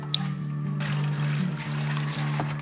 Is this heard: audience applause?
no